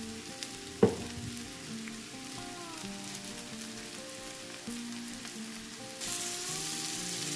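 Ginger paste sizzles in a hot pan with a soft, continuous frying hiss and a clink near the start; the sizzle grows brighter and louder toward the end, with no talking.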